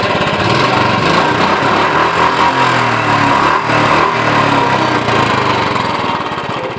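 A Royal Enfield Bullet 350 Standard runs close and loud through its original-sound silencer, a continuous thumping engine drone that holds steady throughout with no talk.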